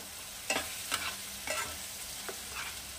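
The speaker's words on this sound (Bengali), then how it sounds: "এটাকে আমি খুব ভালো করে কষিয়ে নেব।" Garlic paste and spices fry in a pan on raised gas flame for a Bengali fish dish, with a steady low sizzle broken by about five brief scraping stirs of a spoon, close by, no talking.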